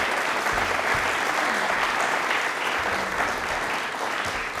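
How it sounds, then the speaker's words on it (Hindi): A studio audience on a Rajasthani television quiz show gives loud, dense applause for the Doordarshan team, a continuous wash of clapping throughout. "एक बार दूरदर्शन की पूरी टीम के लिए तालियां जोरों से बजा दीजिए एक बार।"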